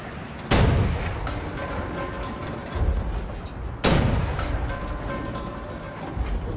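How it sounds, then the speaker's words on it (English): Cannon fire in the video game Wolfenstein: The New Order, two heavy booming blasts a few seconds apart, each with a sharp crack and long rumbling decay over a steady background of in-game noise. "there's one more cannon further up still firing at our birds"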